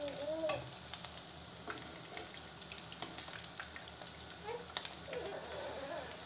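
Bulgur kebabs (bonik) with egg frying in a pan, a steady close sizzle with faint scraping and clinks as pieces are turned, no voices.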